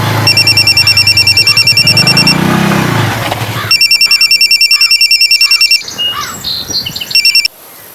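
A telephone rings loudly with a trilling electronic bell in two long bursts separated by a short pause, then stops abruptly.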